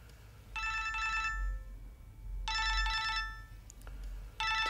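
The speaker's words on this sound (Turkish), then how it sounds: "Telefonun çalıyor." A telephone ringtone plays in repeated electronic bursts, three rings with short gaps between them, clear and fairly close, with no talking.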